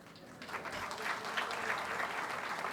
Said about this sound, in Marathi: यावेळी थोड्या टाळ्या कमी वाजल्या.